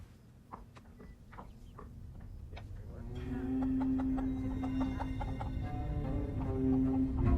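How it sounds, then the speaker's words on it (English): Chickens cluck and squawk in short, irregular calls nearby, joined by a steady low hum that grows louder. "Could you take Daniel's chickens away, please?"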